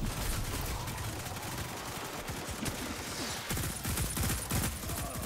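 Gunfire from the video game Destiny 2 crackles in rapid, dense bursts, with repeated shots and some sharper bangs packed closely over a busy game soundscape.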